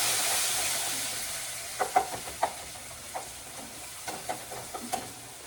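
Onions go into hot oil in a pan for a Kerala fish curry, giving a steady soft sizzle with several sharp crackles and stirring clicks close by, and no talking.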